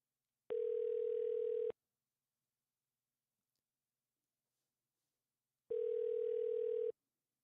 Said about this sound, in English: I may have dialed the office number instead of his mobile number.